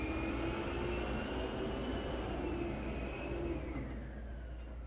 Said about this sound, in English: The garbage trucks are the loudest things in the world here.